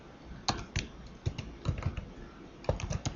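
Keys clack on a computer keyboard as a login name and password are typed, in irregular short bursts of close, moderately loud taps with brief pauses between them.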